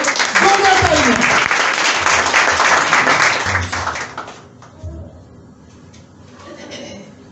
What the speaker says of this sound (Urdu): زوردار تالیوں